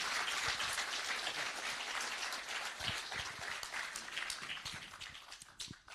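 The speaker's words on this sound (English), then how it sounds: "Round of applause for these two." A crowd claps steadily, a dense wash of applause that gradually thins and fades out toward the end.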